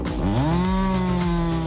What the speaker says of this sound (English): The worker must prepare a 42-inch chainsaw, a machine equipped with a long, sharp blade, to tackle this demanding task.